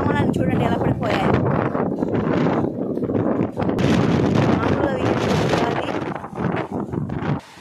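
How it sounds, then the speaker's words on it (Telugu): Strong, gusty storm wind roars and buffets the microphone in loud, uneven surges throughout. "ఈదురు గాలి బాగా వస్తుంది."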